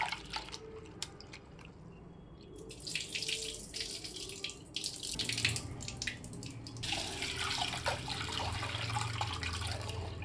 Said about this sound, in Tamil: நல்லா ஒரு ரெண்டு மூணு தண்ணி ஊற்றி வாஷ் பண்ணிவிடுங்க